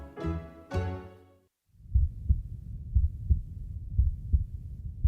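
Two bright chime-like tones ring out, then after a short gap a steady heartbeat sound effect thumps in paired beats at a regular rhythm, fairly soft and with nothing else over it.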